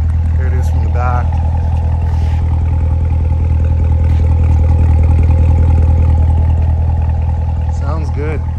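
Idling V8 engine of a 2015 Chevrolet Corvette Z51 2LT coupe in racing yellow, a steady deep rumble heard up close at the rear, with brief clatter and a faint voice over it.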